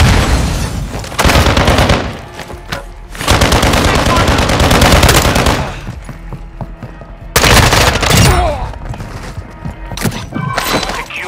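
Dense automatic gunfire from Call of Duty: Modern Warfare 2 DMZ, in loud sustained bursts broken by short lulls, with sharp cracks and heavy reports crowding the foreground.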